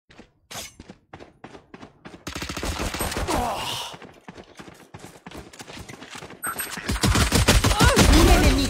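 Rapid bursts of gunfire in a tactical shooter video game, some single shots then sustained volleys, loud and close, growing denser toward the end.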